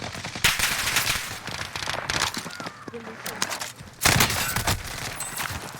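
Rapid gunfire bursts crackle in the video game Warzone, loud and repeated across the clip with short pauses, mixed with game effects and a nearby voice.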